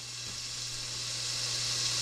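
Onions frying and browning in a pot, a steady soft sizzle and hiss that holds constant over a low background hum, with no talking.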